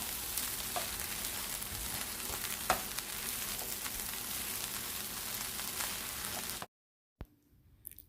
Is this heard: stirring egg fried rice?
yes